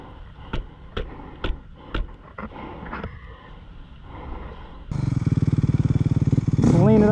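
Off-road motorcycle at an ORV park with its throttle stuck, several sharp clanks and knocks at first, then the engine runs loud and steady at high revs, climbing further near the end.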